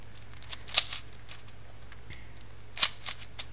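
A small Mini Aosu speedcube being turned quickly, cutting corners: a few sharp plastic clicks and soft scrapes spaced through a quiet room, with two louder snaps.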